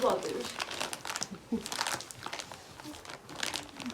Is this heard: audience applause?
no